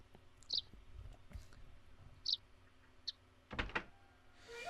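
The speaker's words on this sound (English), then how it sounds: "I'll unlock the door" A door unlocking in the Suikoden video game: a few short, sharp clicks and latch knocks spread over several seconds, with a brief rattling burst near the end, fairly quiet overall.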